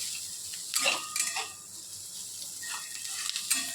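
Chopped onion roasting in a pan for egg curry, soft sizzling under a few scraping stirs and light clinks of a spoon against the metal, fairly quiet and steady.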